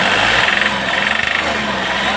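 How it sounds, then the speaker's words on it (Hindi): A Volkswagen Polo engine with a pickup problem and black and white smoke runs loudly up close, its steady drone carrying a fast rattling knock. "देख सकते हैं इसका साउंड कटकटाहट की"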